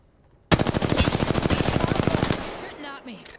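Rapid automatic gunfire in Apex Legends, a loud close burst of about two seconds of evenly spaced shots that then cuts off, followed by brief mechanical clatter.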